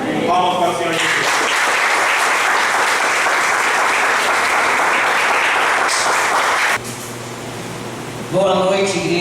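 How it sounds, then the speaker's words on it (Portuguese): Congregation applauding during an evening church service, loud dense clapping sustained for about six seconds, then fading and giving way to a voice speaking over the room. "Palmas para o Senhor Jesus"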